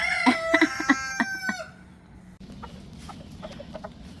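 A rooster gives loud, close, harmonic calls for about a second and a half, followed by quieter scattered clucks from fowl in the background.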